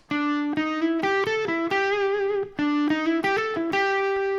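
Distorted electric guitar plays a fast lead phrase from a song's solo, notes stepping through a quick chromatic run before settling on sustained held tones, loud and alone.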